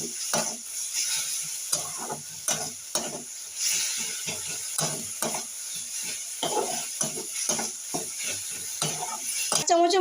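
Ginger, garlic and coriander leaf paste stirred in a frying pan while it sizzles, with a rapid series of close spatula scrapes and clinks over continuous hissing oil.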